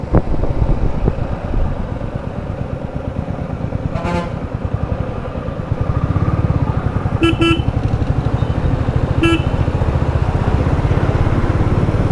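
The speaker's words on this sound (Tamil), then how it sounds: "பிரிட்ஜை கட்டுறன்ற பேரில் மொத்த இடத்துலையும் டிராஃபிக்கை போட்டு டிராஃபிக் ஆகுது." Heavy road traffic crawls past bridge construction, a motorcycle engine thrumming close by under a constant rumble of vehicles, while several short horn honks sound, two quick toots and then another, spaced apart.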